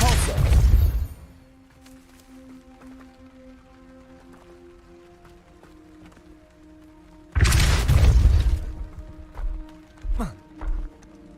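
A Depulso force spell from Hogwarts Legacy lands as a deep, booming whoosh at the start, a second loud impact follows later, then a couple of short thuds, with quiet ambient hum in between.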